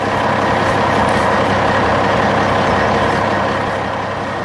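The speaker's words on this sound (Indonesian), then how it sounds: "Sekarang giliran truk hijau yang melaju membawa balok abu-abu." A green animated truck drives along hauling grey blocks on a 3D construction site, a steady loud engine rumble with broad noise that holds level throughout, no talking.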